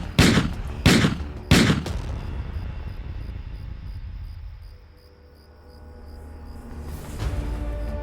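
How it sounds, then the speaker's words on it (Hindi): Three loud, sharp gunshots in quick succession in a Hindi horror story narration, followed by a lingering rumble and fading echo, then another blast near the end. "उसी रमेश के जबड़े सख्ती से भींचते चले गए और उसने दे दनादन सारी गोलियां उस बला पर दाग दी।"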